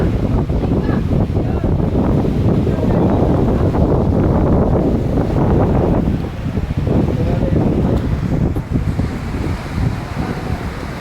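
Strong gusty stormy wind with rain buffeting loudly at the seashore in Madh, Mumbai, roaring steadily then easing somewhat toward the end.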